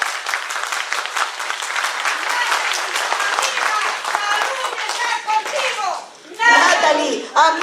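An audience applauds a congresswoman with brisk, dense clapping, then voices rise and chant over the tail end.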